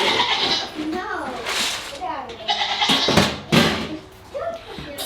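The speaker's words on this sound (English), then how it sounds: "Let's take a look at some goats while we're down here." Goats bleat several times in wavering, voice-like cries, loud and close, mixed with a person talking and some rustling.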